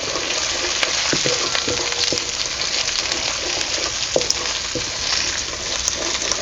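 Black masala sautéing in a pan for Solapuri bazaar amti, a steady close broadband sizzle with occasional spoon scrapes and taps against the pan, continuous and fairly loud with no talk.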